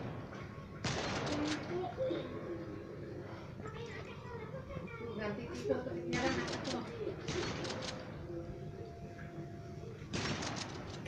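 Shotgun blasts in the mobile shooter Modern Strike Online, a few separate bursts of sharp cracks spaced several seconds apart, mixed with game effects and a person talking over them.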